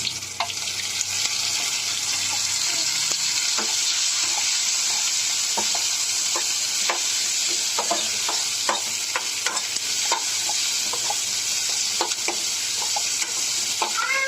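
Tomato sautés in hot oil for a carrot chutney, a loud, dense, continuous sizzle close up with frequent sharp clicks and scrapes of a spoon stirring the pan, and no voices.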